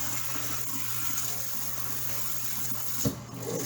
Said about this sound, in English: So I'm just going to rinse them off with cold water.